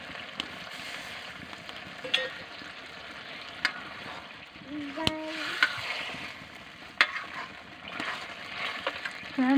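Potato curry sizzles and bubbles gently in a pan, with soft crackles and occasional clinks, fairly quiet and steady.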